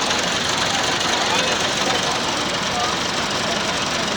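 A Massey Ferguson 240 tractor engine idles with a loud, constant rumble throughout, with people talking nearby.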